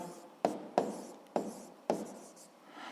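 Pen or marker writing out a physics formula during a lesson, four sharp taps or strokes at a steady rhythm, close and fairly loud, with no talking.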